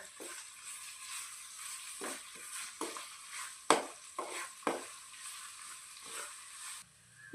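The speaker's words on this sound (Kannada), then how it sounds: "ಈಗ ನೀಟಾಗಿ ಮಿಕ್ಸ್ ಮಾಡೋಣ." Grated raw mango mixture is stirred in a hot pan, with a steady soft sizzle and scraping spoon strokes up close, and no voices.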